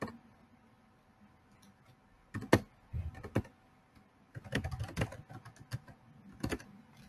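A username is typed on a computer keyboard in short bursts of quick, close key clicks separated by quiet pauses.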